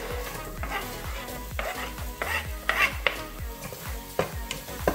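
Broccoli and celery frying in ghee in a pan, a steady close sizzle broken by repeated stirring scrapes and light utensil knocks, with no voices.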